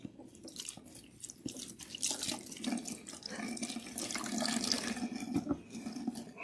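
Tap water runs steadily and splashes while protein treatment is rinsed out of natural hair, a continuous close wash with shifting splatter and no talk.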